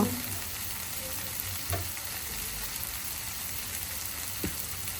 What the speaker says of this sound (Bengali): এই অবস্থায় শুটকিটা আমি আবার কিছুক্ষণ ভেজে